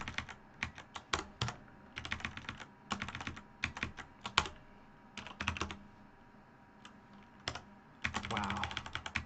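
Keyboard typing in bursts of quick, close clicks separated by short pauses, with a denser run of keystrokes near the end and no speech.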